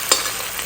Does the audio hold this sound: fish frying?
yes